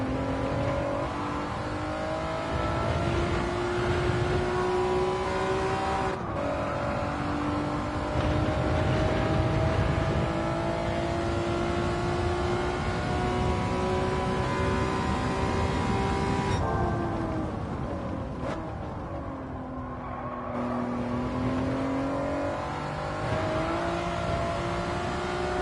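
A Honda NSX race car's engine on the Interlagos circuit in Gran Turismo 7 keeps up a loud, steady, close howl for the whole stretch, its pitch climbing through the gears and dipping when the driver lifts off and shifts.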